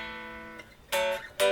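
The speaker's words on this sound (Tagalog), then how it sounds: "ito lang maririnig nyo sa mic. Ito lang yung tunog ng gitara ko." Unamplified electric guitar strings picked up by a mobile recording mic give thin, quiet plucks: a faint ringing note, then two sharper, brighter strums near the end, with no voice.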